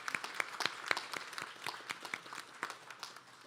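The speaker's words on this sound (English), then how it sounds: "Let's give them a round of applause" Audience applause at an annual meeting, honoring volunteers: a burst of scattered hand claps from a modest crowd, moderately distant, tapering off over a few seconds.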